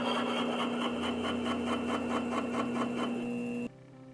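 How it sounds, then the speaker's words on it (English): Helenite gemstone getting its final polish on a Darkside faceting lap: a steady whirring machine tone with rhythmic scraping pulses that stops abruptly near the end, leaving a quiet hum. "This is final polishing with the darkside lap."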